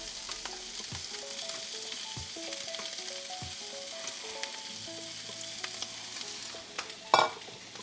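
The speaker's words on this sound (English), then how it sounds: "But we need to sizzle up these onions." Steady, dense sizzling of onions frying in a pan, with occasional stirring clicks and a sharp clatter near the end; no voices.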